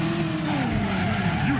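Tires squeal and skid in a slalom racing level of a video game, a continuous, loud screech with wavering pitch over roaring engines, lasting under two seconds.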